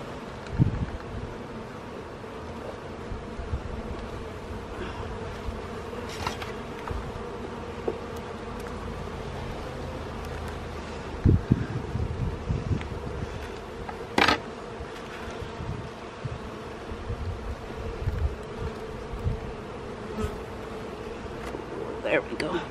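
Honeybees buzz in a dense, continuous drone during a hive inspection, close and steady, with occasional knocks and handling sounds and some muffled talk underneath.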